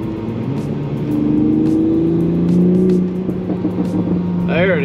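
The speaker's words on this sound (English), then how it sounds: "So it's got a little bit of grumble, a little bit of backfiring." A 2020 Toyota Supra's exhaust grumbles, revs up and backfires close by, with a deep steady rumble and a voice talking over it.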